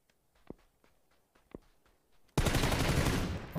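Gunfire in an online first-person shooter: a few quiet footsteps and distant thuds, then a sudden loud, close burst of sustained automatic fire that runs to the end.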